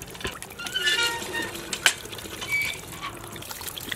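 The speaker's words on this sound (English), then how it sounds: "It is a pretty cool water pump." Water pours and trickles from a hand pump at a forest campsite, an uneven splashing stream with a sharp clank midway, while people talk nearby.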